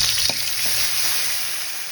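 Fish sizzling hard in hot oil in a pan for a mustard and green-chilli fish curry, a steady loud hiss with a few soft scraping touches early on and no voices.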